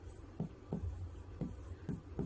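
Chalk or marker strokes on a classroom board as a minus sign is written, five short scratchy taps in quick succession, close and fairly quiet with no talking.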